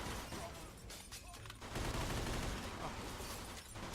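Rapid gunfire rattles through a bar shootout in the video game Mafia II, with dense bursts of shots building into a loud, sustained fusillade that carries on to the end.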